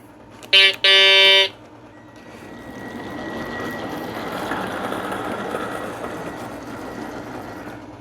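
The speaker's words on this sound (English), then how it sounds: "So let's bring in a train." A Lionel model train pulls into an operating fueling station, opening with two short toots of the horn, then a rising, steady mechanical rumble as the engine rolls in close by.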